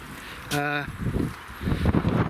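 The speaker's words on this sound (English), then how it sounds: "Windy." Gusty wind buffets the microphone in low rumbling surges, with a brief tonal hum early on and heavier gusts toward the end.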